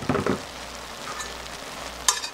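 A Korean chwinamul doenjang stew with soybean paste bubbles in a pot on a gas stove. It simmers softly and steadily, with a couple of light clinks at the start and one more near the end.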